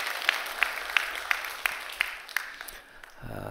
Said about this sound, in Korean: 다시 한번 박수 한번 해주셔요